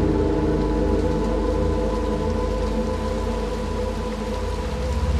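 Steady rain pours in the video game Little Nightmares II, a dense continuous hiss of drops on surfaces with a low rumbling bed beneath, constant and loud throughout with no voices.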